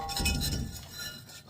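Metal brake rotor from a Toyota Tundra clinking once as it is pulled free, a short ringing metallic clink close by with no talk.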